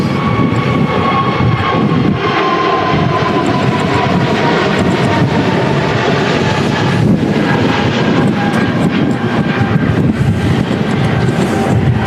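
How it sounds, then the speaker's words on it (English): An EasyJet A330neo on approach at Manchester Airport in stormy crosswinds gives a continuous, loud engine roar that holds steady throughout, heard alone without voices. "So we have another aircraft on approach. It's a EasyJets A330 Neo coming in."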